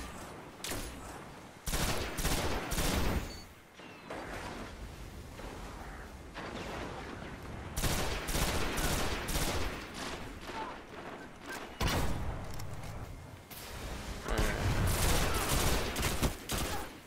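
Rapid bursts of automatic gunfire and thudding shots from Destiny's Crucible multiplayer mode fill the scene, dense and continuous with brief pauses between volleys.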